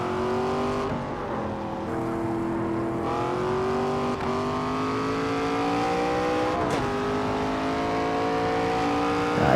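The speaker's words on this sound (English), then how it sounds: "I can't get over the sound of that transmission." Race car in the NASCAR 25 video game, its engine and transmission whining steadily with rising and falling pitch through gear changes, loud and continuous with no talking.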